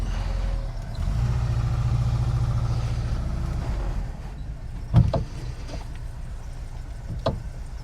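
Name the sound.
Volkswagen Vanagon engine running while backing up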